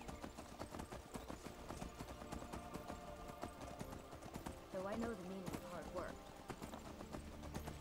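Hooves clip-clop steadily from a horse ridden in Skyrim, layered under game music and someone talking over it, with a brief whinny-like flourish near the middle.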